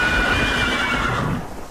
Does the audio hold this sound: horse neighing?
yes